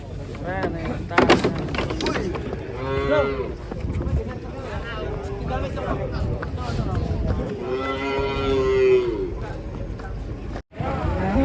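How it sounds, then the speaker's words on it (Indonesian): Four cattle low repeatedly in long, drawn-out moos, loud and close, over a busy background of people talking. "Ya, kedatangan 4 ekor sapi nih."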